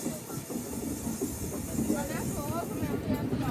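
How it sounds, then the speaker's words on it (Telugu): A train pulls out from the neighbouring platform track at an Indian railway station, a steady rumbling hiss with faint rail clatter, heard from nearby with voices in the background. "పక్క ప్లాట్ఫామ్ నుంచి, పక్క ట్రాక్ నుంచి ఒక ట్రైన్ అయితే బయటికి వెళ్ళిపోతుంది"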